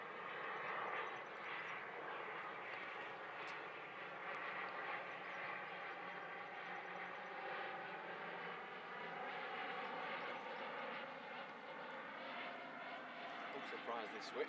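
An Emirates airliner at Manchester Airport drones steadily at a distance, a broad sustained engine roar with a faint rising whine.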